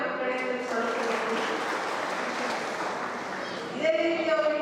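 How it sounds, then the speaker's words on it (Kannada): An audience at a Kannada book and website release event honouring Mahatma Sharanabasava claps in a steady, dense roar, with a voice rising over the clapping near the end. "ಅವರಿಗೆ ದೊಡ್ಡ ಚಪ್ಪಾಳೆ ನಮ್ಮ ಕಡೆಯಿಂದ ಸಲ್ಲಿಸಬೇಕು."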